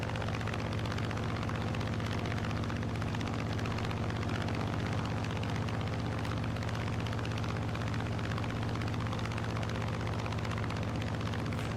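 Warbird propeller aircraft landing in Microsoft Flight Simulator, a steady loud drone of engine and propeller holding evenly throughout with no breaks.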